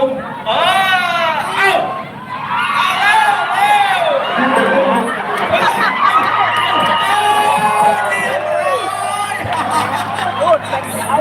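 At an outdoor event a large crowd cheers continuously, with excited shouts, whoops and a dense babble of voices, loud and close throughout.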